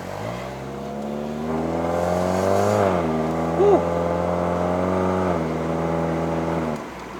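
A 2015 Peugeot 208 with a 1.6L VTi petrol engine pulls under steady throttle, a smooth, even engine drone climbing and dipping slightly in pitch for several seconds from inside the car.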